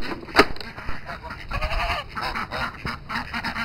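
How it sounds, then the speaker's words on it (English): Geese and ducks kept in a winter poultry pen honk and quack in overlapping bursts, one loud honk standing out early, with a busy flock chatter continuing close by. "Here's my waterfowl."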